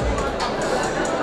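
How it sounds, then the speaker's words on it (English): Crowd murmur fills the Elorde Grand Ballroom at the Elorde Sports Complex during a boxing event, a steady, dense babble of many voices close around with no single speaker standing out. "This is the crowd here at the Elorde"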